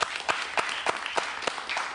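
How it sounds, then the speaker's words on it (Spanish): A studio audience on a television talk show applauds a guest, with close, sharp hand claps at a loose rhythm over a light, steady background. "Un aplauso para él, por favor."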